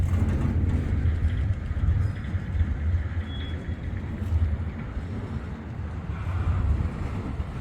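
A long CSX intermodal freight train rolls past, a continuous low rumble and grinding of wheels on rail with rising and falling swells, heard from trackside without talk.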